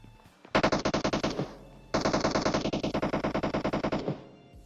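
Two long bursts of rapid automatic gunfire in PUBG Mobile, each a fast, even string of sharp cracks, separated by a brief pause.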